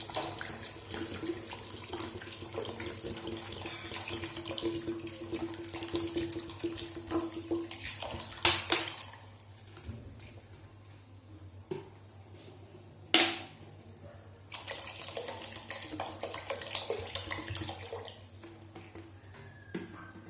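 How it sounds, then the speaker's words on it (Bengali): Water poured into a pot of vegetable khichuri, a continuous splashing pour that stops partway, followed by quieter gaps and a few clanks of the pot. "এবার আমি এর মধ্যে পরিমাণ মতন জল দিয়ে দেবো।"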